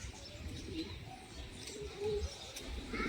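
A loft full of mixed pigeons, Madrasi, high flyers and fancy birds, gives off soft, low cooing. The calls are faint and scattered over a murmuring background.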